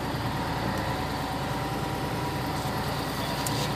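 A truck engine hums low and steady from inside the cab while driving on the road, a constant close drone with no talking.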